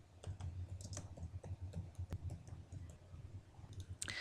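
Steady typing on a computer keyboard, rapid light key clicks in an uneven rhythm, close up and alone, with a sharper tap near the end.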